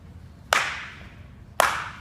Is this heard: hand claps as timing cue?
yes